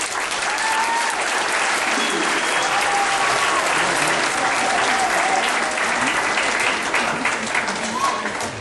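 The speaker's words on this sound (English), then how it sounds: "a round of applause" A crowd gives a long, steady round of applause, dense and even at full loudness from start to finish, with a few voices faintly mixed in.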